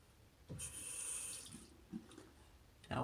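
Water runs from a bathroom tap in a steady hiss for about a second during shaving, followed by brief splashes and drips nearby.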